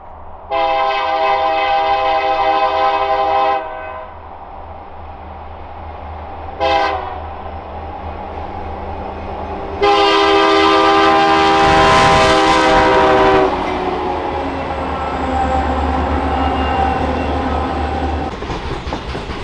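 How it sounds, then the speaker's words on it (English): A loud freight train horn blares in several long blasts, then the passing freight train rumbles and clatters along the tracks with steady wheel noise, in snowy weather. "I heard the horn a little bit up the tracks"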